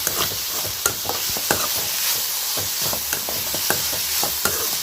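Shredded cabbage sautés in a pan for a Tamil stir-fry, a loud continuous sizzle cut by frequent quick scrapes and taps of a spoon stirring.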